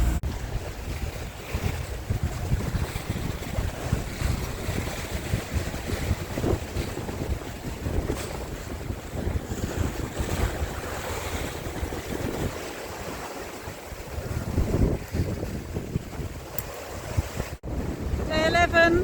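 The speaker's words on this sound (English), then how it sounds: "we're reefed with about 20 knots of wind and it's coming over the foredeck" Gusting wind buffets a reefed sailboat at sea in about 20 knots, with waves washing over the foredeck; a continuous roaring rush with heavy microphone wind noise and surging water, loud and close throughout.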